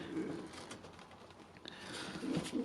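Birmingham Roller pigeons in a loft, soft low cooing in short bursts near the start and end over a faint background hiss.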